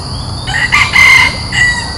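A rooster crows once, close and loud, its call breaking into a few bright rising and falling bursts over a quiet outdoor background.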